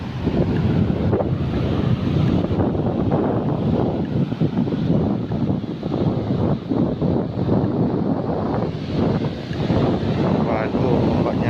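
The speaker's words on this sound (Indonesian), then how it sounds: "Waduh, ombaknya gede." Big ocean waves breaking on the beach at Watu Ulo, a continuous roaring surf wash with heavy wind buffeting the microphone, close and loud, with people talking at times.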